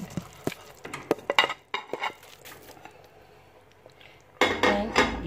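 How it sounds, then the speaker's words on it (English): A spoon clanks and scrapes against a pot while vegetable soup is stirred, a quick run of metallic knocks followed by a pause and then a louder burst of stirring. "Then you have to stir it very good."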